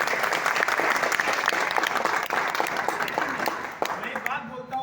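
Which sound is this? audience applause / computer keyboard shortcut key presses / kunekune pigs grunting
audience applause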